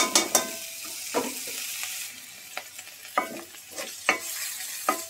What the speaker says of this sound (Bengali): এই যে ধোয়া শুটকিগুলো এবার হচ্ছে তেলের মধ্যে একটু ভেজে নেব